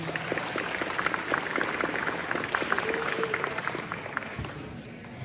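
A crowd at a Safe Families community dessert fundraiser claps for a partner, a dense spread of hand claps with a few sharper ones standing out, fading a little near the end.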